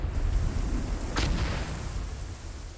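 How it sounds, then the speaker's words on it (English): Distant explosions and artillery-like booms rumble in an Arma military simulation battle, a low continuous roar with one sharper burst near the middle, no voices. "Just heard 2 explosions."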